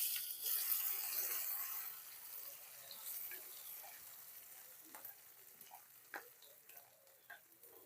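Prawn masala with onion frying in hot oil for a Telugu royyala curry, a steady soft sizzle that fades over time with scattered light clicks and small stirring taps, no voices.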